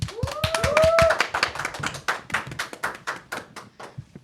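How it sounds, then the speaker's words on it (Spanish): Studio audience clapping loudly to welcome a guest onto a talk-show set, dense rapid applause that thins and fades toward the end, with a few whoops early on. "La recibimos con un fuerte aplauso."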